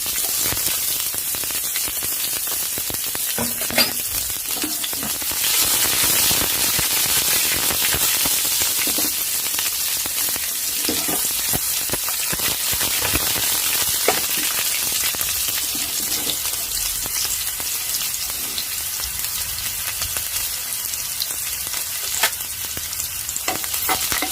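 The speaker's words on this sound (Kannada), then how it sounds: "ನೋಡಿ ಸಾಸಿವೆ ಮೆಂತ್ಯ ಸುಳಿತಾ ಇದೆ ನಾನು ಒಂದೆರಡು ಮೆಣಸಿನ್ಕಾಯಿ ಕರಿದವು ಹಾಕಿದ್ದೀನಿ ಆನಂತರ ಈರುಳ್ಳಿ ಕೂಡ ಹಾಕಿದ್ದೀನಿ" Mustard seeds, fenugreek, chillies and onion fry in hot oil, giving a continuous close crackling sizzle with scattered pops that carries on steadily for the whole stretch, with no talking.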